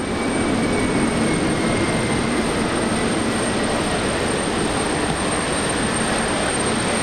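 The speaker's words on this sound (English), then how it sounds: "we've got our next arrival into Brisbane Airport" An airplane arriving at Brisbane Airport, heard as a loud, steady broadband roar of engine and rushing air that holds unbroken throughout, with no voices.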